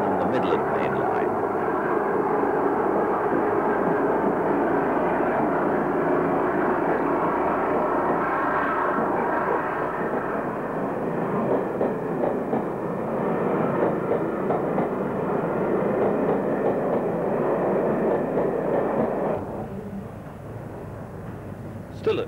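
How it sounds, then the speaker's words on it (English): A Class 45 Peak diesel locomotive pulls away from Kettering station on the Midland Main Line, its engine roar loud and steady throughout before easing slightly near the end, with a voice talking over it. "Peak number 45147 departs from Kettering Station on the Midland Main Line."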